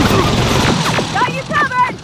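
Heavy gunfire in the Terminator: Resistance video game, loud rapid bursts and impacts packed into a short burst of combat, with voices shouting over the shooting.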